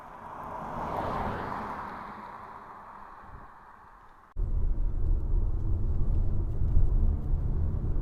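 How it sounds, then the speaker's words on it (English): A 2021 Cupra Formentor V2 1.4 eHybrid plug-in hybrid drives on the road: a soft, breezy whoosh fades, then a heavier steady rumble of tyre and road noise takes over abruptly and continues. "let's take it out on the road to see how the plug-in hybrid performs"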